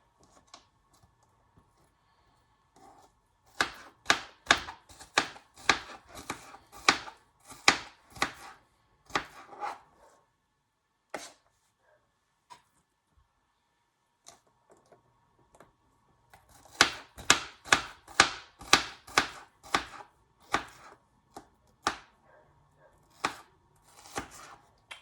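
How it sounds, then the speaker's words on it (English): A knife chops onions on a board in two quick rhythmic bursts of sharp, close taps separated by a quiet pause, with no talking. "I'm just gonna put the onions that I have chopped up"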